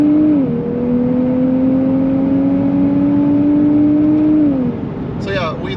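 A 2024 Nissan Z engine pulls at full throttle with a steady, loud droning note that climbs gradually in pitch, then eases off near the end as a short voice cuts in.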